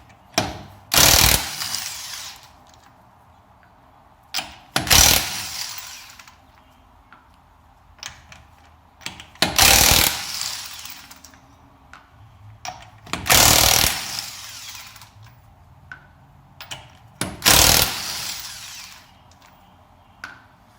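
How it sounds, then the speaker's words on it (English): An impact wrench fitted with a 19 mm impact socket, used on a 2016 Mustang GT with the performance pack, fires five loud, short bursts of hammering rattle. Each burst is spaced several seconds apart by quiet gaps. "we got our impact, we got our 19 millimeter impact socket."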